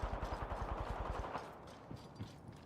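Rapid automatic gunfire in a battle royale video game, a fast burst of about a dozen evenly spaced shots lasting over a second, followed by a few scattered impacts and game sounds, fairly loud and with no talking.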